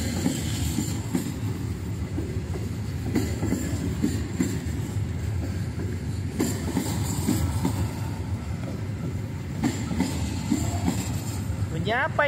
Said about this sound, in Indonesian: Bunyi rel kereta api itu, bunyi rel kereta api rodanya.